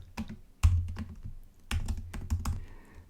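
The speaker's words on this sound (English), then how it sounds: "So I type my print, round parentheses, single quotes," Keystrokes on a computer keyboard while Python code is typed: close, irregular clusters of clicks and taps with short pauses between bursts, heard alone.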